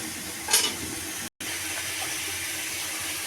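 Fish dropped into fried spice paste with tomato and green chilli in a pan, a steady sizzle with a brief louder hiss early on and a momentary cut before frying continues.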